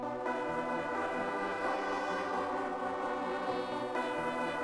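Soft horn pushed through Camel Crusher distortion with the lows left uncut, a dense, buzzy sustained chord with heavy low-end rumble that shifts slightly in pitch across a few changes.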